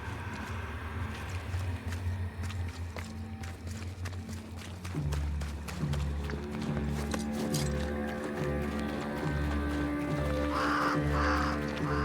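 A crow caws several times in a medieval-fantasy game scene, the calls sitting over a steady backdrop of horse hooves clip-clopping and a low ambient rumble.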